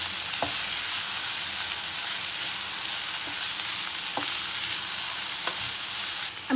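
Vegetables and chicken fry in butter with a steady, loud sizzle filling the whole stretch, broken by occasional sharp clinks and scrapes as the pan is shaken and stirred.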